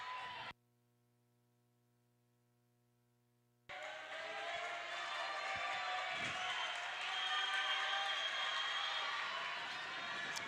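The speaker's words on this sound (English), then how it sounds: "Crowd starts to get a little rowdy again after the break in play." Noisy gym crowd at a varsity volleyball match against Paramus, with cheering, whoops and scattered clapping rising after a short silent gap and holding at a loud, busy level, a few thumps and voices mixed in.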